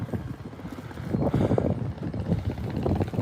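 Small red, yellow and blue wooden fishing boat off Vung Tau, Vietnam, its engine putting with a rough, rapid low chug under wind buffeting the microphone, steady and fairly close.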